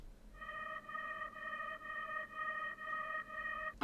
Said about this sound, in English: this is a vocal pad a bit high because I wanted to have that